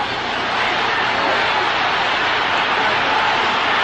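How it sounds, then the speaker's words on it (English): Crowd at the 1974 Ali vs Frazier boxing rematch, a dense, loud roar of screaming voices that holds steady and swells slightly toward the end. "Crowd beginning to scream as they realize the countdown continues toward the end of the fight"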